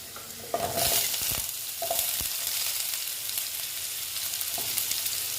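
Sweet pumpkin and potato pieces fry in a pan with a loud, close sizzle, while a spatula scrapes and clinks against the metal in a few sharp strokes.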